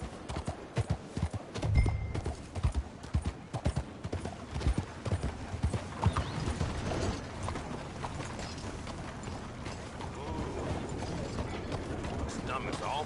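Horse hooves clip-clop in Red Dead Redemption 2, a quick, loud run of close hoofbeats early on that settles into a busier, rumbling mix of movement and ambient noise.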